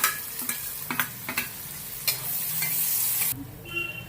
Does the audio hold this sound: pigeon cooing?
no